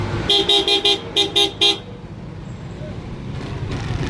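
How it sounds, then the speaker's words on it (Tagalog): A car horn honks in a rapid series of short toots, two quick bursts in a rhythmic pattern, followed by steady road and engine noise. "ang ganda ng busina nun, no?"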